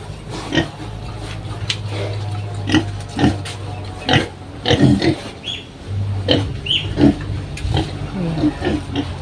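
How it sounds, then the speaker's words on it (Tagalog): Repeated low grunts and snorts from a sow in an irregular rhythm, fairly close, with a steady low hum running underneath. "ayun mga kaparmers yung aming isang baboy na inahin"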